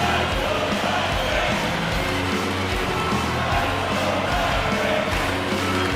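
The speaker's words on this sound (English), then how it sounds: "You can feel the energy in this crowd." An NHL 25 hockey arena crowd at a Stanley Cup Final between Calgary and Tampa Bay gives off a steady, dense roar of cheering that holds throughout, loud and enveloping.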